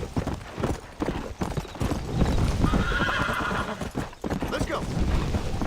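A tiring horse gallops in the video game Red Dead Redemption, steady rhythmic hoofbeats up close, with a whinny and distant gunfire mixed into the game sound.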